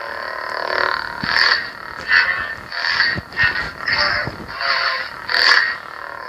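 An Ultrasabers Spectre lightsaber hums loudly and crisply, swelling into a series of rhythmic swooshing swings one after another, with no voices.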